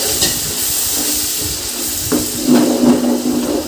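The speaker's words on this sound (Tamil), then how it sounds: "இதெல்லாம் நல்லா மிக்ஸ் பண்ணி விட்டுக்கோங்க. பாத்திரம் அடிப்பிடிக்காத அளவுக்கு நல்லா மிக்ஸ் பண்ணிக்கோங்க." Biryani masala with yogurt is stirred in a cooking pot for chicken dum biryani, giving a steady close sizzle and hiss with soft scraping swells.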